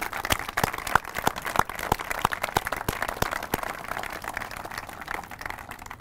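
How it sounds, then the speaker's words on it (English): An audience at a university groundbreaking ceremony for a student-athlete performance center claps, with sharp individual claps over a moderate steady patter that thins out toward the end. "Let's give them a big round of applause."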